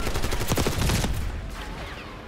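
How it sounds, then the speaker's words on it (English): A burst of rapid gunfire from the video game Call of Duty: Black Ops 6, loud and dense for about a second, then a quieter trailing rumble with no talk. "I shot him in the head and nothing."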